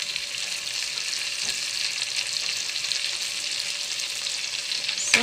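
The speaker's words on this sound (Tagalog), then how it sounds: "gisa lang natin to, patutunawin lang natin tong kamatis." Tomatoes and other ingredients for sinigang sauté in a pan, giving a steady, even sizzle and frying crackle throughout, close and moderately quiet.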